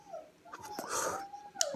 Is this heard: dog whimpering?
yes